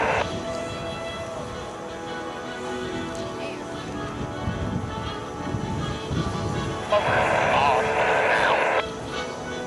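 A loud, continuous aircraft engine roar from an aerobatic team at an airshow fills the recording, steady and close, with a brighter surge of noise near the end.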